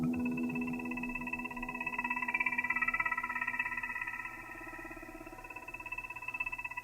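Hang drum notes drift in a soft, sustained ambient wash with a faint rhythmic flutter, like night insects in the woods, steady and moderately quiet throughout.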